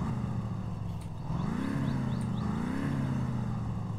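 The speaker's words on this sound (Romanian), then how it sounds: "S-aude bine V8 ăsta." A V8 car engine idles and revs in the driving game My Summer Car, a steady low rumble that swells with a throttle blip and settles again, close and alone.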